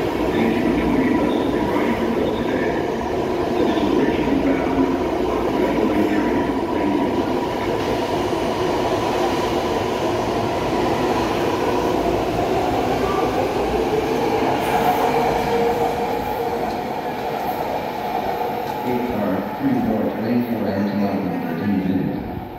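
A BART subway train rumbles along continuously and loudly, with rattling cars and occasional wheel squeals, and people talking faintly beneath the noise.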